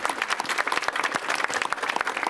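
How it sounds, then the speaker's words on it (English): Audience applause at a mayoral announcement in New York, a room full of people clapping steadily with distinct individual claps audible throughout, moderately loud and without speech. "Let's please give a round of applause again to all the wonderful partners and New Yorkers"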